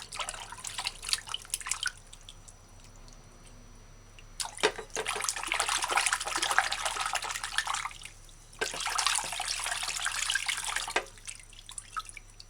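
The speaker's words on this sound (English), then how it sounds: "So under the force of the running water, you just use your fingers and separate the spirulina" Tap water runs in bursts over Irish moss being rinsed in a sink, as the seaweed is worked apart by hand. The dripping, splashing flow starts and stops several times and stands alone, with no voices.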